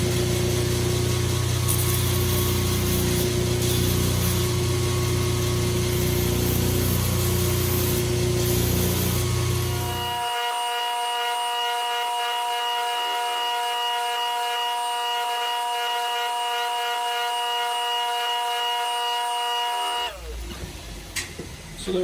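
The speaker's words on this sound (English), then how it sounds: "So I got my grinder set up. I got a 10-inch contact wheel here, 120 grit belt" A belt grinder with a 10-inch contact wheel and 120 grit belt grinds the tops off metal pins, a loud steady grinding roar that drops after ten seconds to the motor's quieter whining hum before winding down.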